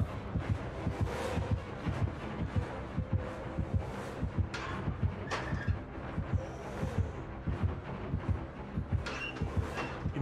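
A steady, thumping heartbeat pulses through the horror game Dead by Daylight, with regular low throbs running the whole time under muffled ambient game noise.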